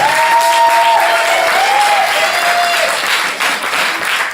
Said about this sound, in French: Je vous demande un tonnerre d'applaudissements pour Mademoiselle Joséphine, s'il vous plaît.